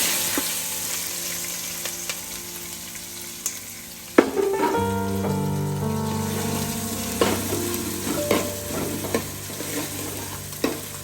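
Crushed ginger, garlic and slit green chillies hit hot oil in a pan for a Kerala-style chicken curry, a steady loud sizzle that flares as the ingredients drop in midway, with occasional stirring clinks and scrapes.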